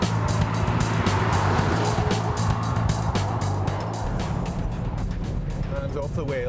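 A Volvo V40 R-Design in performance mode runs flat out on the outside lane of a high-speed banked bowl, with steady loud engine and road roar from inside the cabin and someone talking over it.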